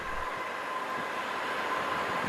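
A Croydon tram bound for Wimbledon runs in the Roblox video game, giving a steady, close rumble and rail hum that holds evenly throughout with no talking.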